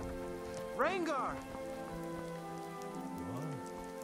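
Steady rain patters in Skyrim Special Edition throughout, with a brief sweeping musical chime near the start and a short voice call under the downpour.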